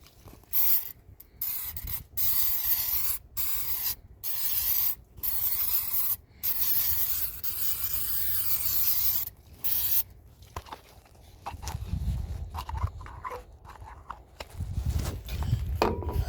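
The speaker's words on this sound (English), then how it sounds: "so it looks like I'm going to spray a little bit more" An aerosol can sprays in a series of short hissing bursts separated by brief pauses, then quieter rustling and handling noises follow.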